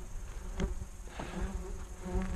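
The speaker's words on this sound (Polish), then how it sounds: "Na pierwszym planie rój much, który mnie oblega." A swarm of flies buzzes steadily and close around a cyclist on the Błatnia mountaintop at sunset, with individual insects whining louder as they pass near.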